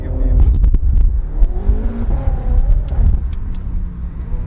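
A BMW M5 F10 with a downpipe and full Grapovic exhaust, tuned to 700 hp, revving loudly up close in a series of sharp, rising engine bursts with crackles.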